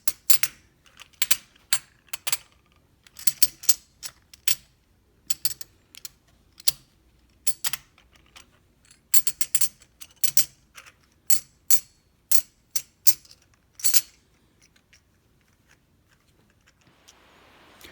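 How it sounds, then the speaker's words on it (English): Silver prospector bullion rounds clink together in a rapid run of bright metallic taps for about fourteen seconds, close and clear with no talking, then fall quiet. "The awesome sound of silver prospector round."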